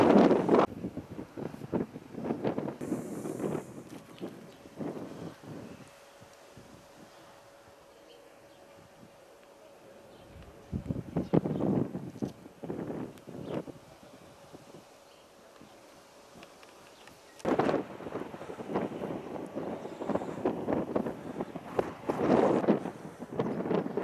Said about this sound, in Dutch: Er staat een ijskoude wind.